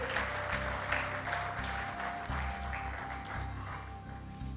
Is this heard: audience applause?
yes